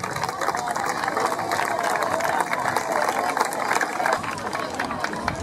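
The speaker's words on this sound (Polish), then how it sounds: "Wielkie brawa dla nich" Young footballers get a round of applause at a season-end ceremony: sustained crowd clapping and cheering fills the whole stretch, dense and fairly near, with some chatter mixed in.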